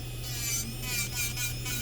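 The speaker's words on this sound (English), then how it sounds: "just drill it like very thin, like make sure all the acrylic that you drill it out" Electric nail drill filing down acrylic nails, a steady close rasping whir with slight rhythmic swells in pressure, heard alone.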